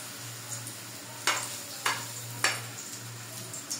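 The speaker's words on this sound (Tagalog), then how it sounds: "Tapos ilagay natin dito sa mainit na mantika." Squash fritter batter fries in hot oil with a steady low sizzle, broken by three sharp crackling bursts as pieces are added.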